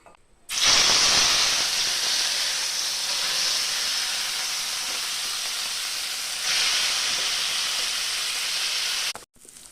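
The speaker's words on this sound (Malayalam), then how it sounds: "ചട്ടി നന്നായി ചൂടായി വന്നിട്ടുണ്ട് വെളിച്ചെണ്ണ ഒഴിച്ചു കൊടുത്തിട്ടുണ്ട്" Loud, steady sizzling of food frying in hot coconut oil in a pan, a continuous hiss that swells a little partway through, then cuts off.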